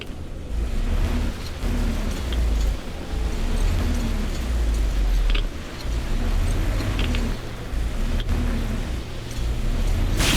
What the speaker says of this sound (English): Take the wheel, Artyom.